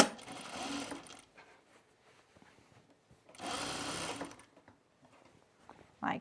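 A domestic sewing machine stitches over the top of a jacket pocket to reinforce it, running in two distinct bursts of steady, close, rapid mechanical whirring separated by a quiet pause, with a brief final burst at the end.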